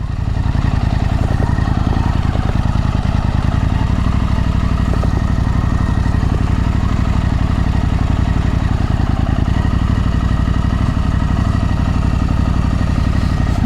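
A KTM 890 Adventure R motorcycle engine idles steadily in the rain, a loud, even mid-pitched throb with faint clatter and no speech over it.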